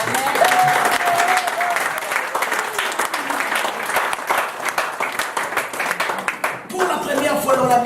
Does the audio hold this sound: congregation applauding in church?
yes